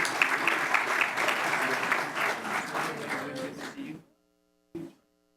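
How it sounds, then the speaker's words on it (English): Audience applause at a school district board meeting, a dense crowd of clapping for about four seconds that fades out, followed by a brief clunk. "let's hear it for Christian Hernandez"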